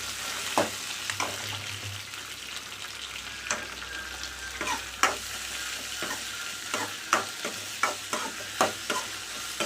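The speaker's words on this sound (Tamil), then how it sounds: "அதவே திரும்ப நல்லா எண்ணெயில் வணக்கி எடுத்துக்கலாம்" Cut okra sautés in oil in a pan, a low sizzle punctuated by a regular series of sharp spatula scrapes and clacks as it is stirred, close and with no speech.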